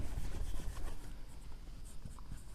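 Quiet scratchy strokes of writing on a board during a physics lesson, a soft continuous rubbing texture with no voice over it.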